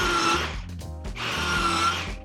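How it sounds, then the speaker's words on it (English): A Kreg pocket hole joiner drills through a knot in wood, two loud whirring bursts of the motor with a brief pause between them, close and alone without talk. "We're about to drill through a knot, so this is going to be a good test"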